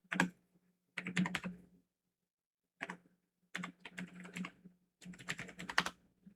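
Typing on a computer keyboard in several separate bursts of rapid, close key clicks, with short pauses between them and no talking.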